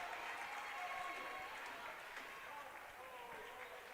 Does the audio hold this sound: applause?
yes